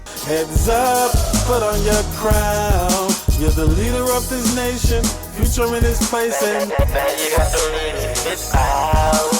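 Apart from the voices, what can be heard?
auto-tuned computerized singing voice effect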